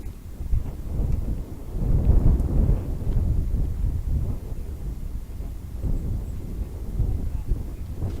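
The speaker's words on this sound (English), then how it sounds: "Wind has really picked up." Strong wind buffets the microphone on an open golf course during a pro-am, a loud, continuous low rumble with gusts rising and falling throughout.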